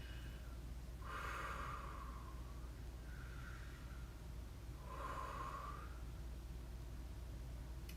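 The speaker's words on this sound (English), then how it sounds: "So let's just take a few deep breaths and do that tonight." A group takes slow, deep breaths together during a quiet gathering: two soft, drawn-out inhales with exhales, several seconds apart, over a low background hum.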